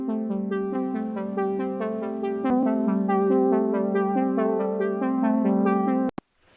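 A bright plucked synth melody with chords, slightly warbly and worn like an old tape, playing steadily before cutting off abruptly near the end.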